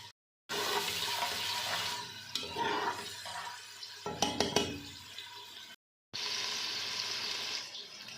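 Garlic and spices frying and being stirred in a pan for black chana curry until light brown, a steady sizzle with scraping and clinking utensil sounds, broken by short silent gaps.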